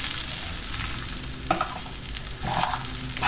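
Beetroot sautéing in a pan, a steady soft sizzle with stirring scrapes, a sharper clink near the middle and louder frying toward the end, with no talk.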